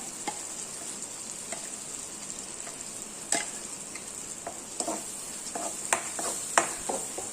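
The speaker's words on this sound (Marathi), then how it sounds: "आणि हे थोडंसं परतून घेते" Ground spice paste with vegetables frying and being stirred in a pan for a vegetable dish, a steady close sizzle broken by scattered scraping knocks of the spoon, with no voices.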